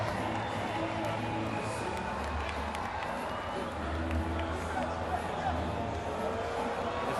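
A large stadium crowd applauds and cheers steadily as the cricket team celebrates winning the ICC World Test Championship final, a continuous roar of clapping and babble with no clear pauses.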